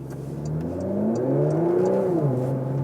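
A 2022 Porsche Macan GTS with a 440-horsepower V6 revs up steadily and nearby, its engine note climbing in pitch and then easing back down.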